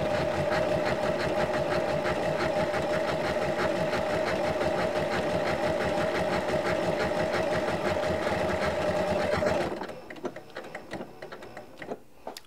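Sewing machine running a lock stitch design through vintage linen for a quilt-as-you-go wall hanging, a steady fast mechanical whir with rapid ticking that runs evenly, then stops and leaves a few faint clicks.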